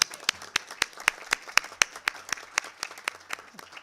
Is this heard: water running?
no